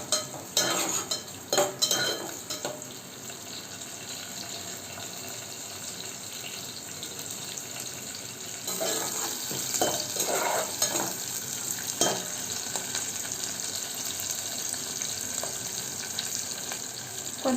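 Onions, green chillies and curry leaves fry in oil in a pan with a soft, steady sizzle, broken by scraping stirs and clinks of a spoon against the pan, with a louder stretch of stirring toward the end.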